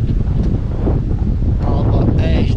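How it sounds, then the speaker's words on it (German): Steady outdoor wind buffets the microphone near a castle ruin on a hot day, a continuous loud roar with rustling and faint voices mixed in. "Oh, zum Glück geht ein bisschen Wind."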